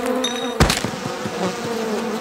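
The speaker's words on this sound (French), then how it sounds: "Quoi, tu vas mettre des abeilles dans son lait?" Cartoon bees buzzing, a steady insect drone that runs through the whole moment with a brief louder swell near the start, close and fairly loud with no talking.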